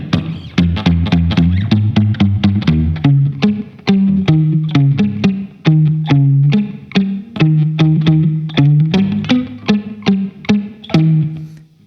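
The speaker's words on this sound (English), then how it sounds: "This sort of plop, plop, plop." Electric guitar through a springy reverb, picked notes plucked in a steady rhythm, each with a bouncy, plopping attack and short ringing decay, loud and close with no voices.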